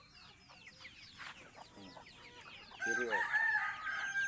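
Rural chickens cluck in a scattered flock, then a rooster crows loudly partway through, while someone speaks briefly and quietly.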